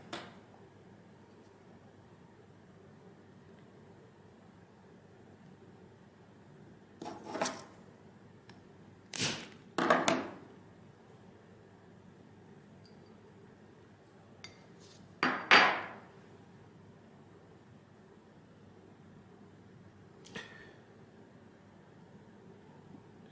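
A few sharp metallic taps of a hammer driving a steel punch into gold coins, heard as isolated strikes and short pairs spaced seconds apart over quiet background hiss.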